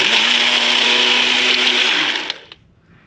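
Blender crushing ice for a frozen margarita, running off a Bluetti AC200P portable solar generator: a loud, steady whirring roar held for about two seconds, then winding down and cutting off with a couple of clunks.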